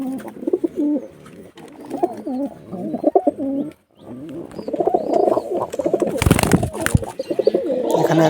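Pigeons kept in a cage at the Beldanga market in Murshidabad give repeated throaty coos up close, with a short pause, then a burst of rustling or wing noise among continued cooing.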